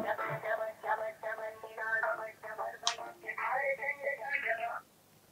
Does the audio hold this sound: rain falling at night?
no